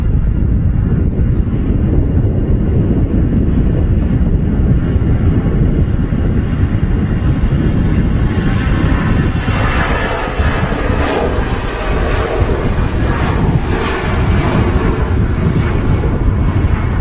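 An EasyJet Airbus A320 takes off at Manchester Airport, bound for Bordeaux, its jet engines a loud, steady broadband roar that holds throughout with a slight swell partway through.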